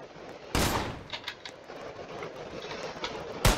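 Gunfire from players shooting in a Roblox game: two sharp, loud cracks at the start and end, with a scatter of lighter rapid pops between them over a steady noisy background.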